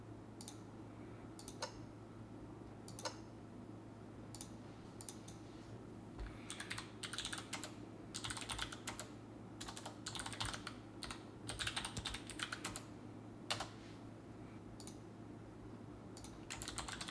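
Someone types on a computer keyboard while entering Chinese characters with an input method, giving sparse clicks at first and then bursts of rapid, close keystrokes with short pauses between them.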